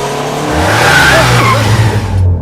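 A car races forward and brakes hard, tires squealing loudly across the pavement in a long skid that tapers off before sudden silence.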